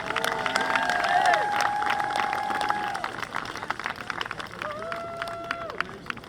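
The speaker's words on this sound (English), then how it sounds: "let's have one more round of applause for the Rhinebeck senior cheerleaders" Crowd applause and cheering in the stands at a high school varsity football game, honoring senior cheerleaders; scattered clapping and shouts mix with loud tonal calls and whistles, fading somewhat toward the end.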